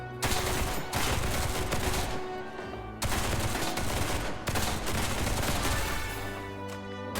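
Dense, continuous bursts of rapid gunfire from the shooting challenge in the video game Duet Night Abyss, loud and nearly unbroken for several seconds with brief gaps before volleys resume.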